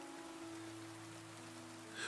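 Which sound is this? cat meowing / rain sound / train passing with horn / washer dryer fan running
rain sound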